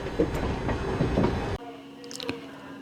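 The KSR Bengaluru–Ernakulam superfast express pulls out of Salem Junction with a loud rolling rumble and wheel clatter on the rails, then the noise drops off abruptly to a quieter hum with a few faint clicks.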